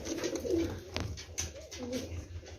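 Pigeons coo in a loft, with several soft, throaty calls repeating close by over a quiet background.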